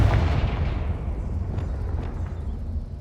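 A Confringo blasting spell in Hogwarts Legacy sets off a deep booming explosion whose low rumble fades out over a few seconds, with a couple of faint later pops and no speech.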